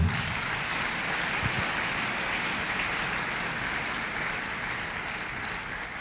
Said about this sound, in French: Acclamons la parole.